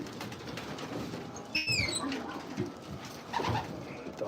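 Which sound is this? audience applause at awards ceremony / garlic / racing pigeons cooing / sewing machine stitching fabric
racing pigeons cooing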